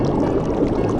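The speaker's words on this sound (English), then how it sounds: "Get the bubbling noises ready." A bubbling water sound effect churns in a continuous, loud, dense wash of watery noise with no voices.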